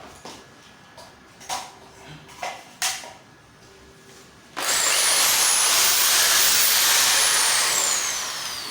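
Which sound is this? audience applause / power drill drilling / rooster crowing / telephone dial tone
power drill drilling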